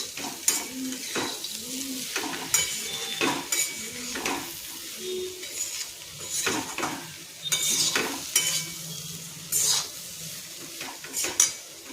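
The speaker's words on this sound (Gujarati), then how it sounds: "આપણે બધું મિક્સ કરી લઈશું." Dry curry of sweet potato and potato with fasting salt stirred in a pan: a spoon scrapes and clinks against the metal in irregular strokes over a soft sizzle, close and clear, with no talking.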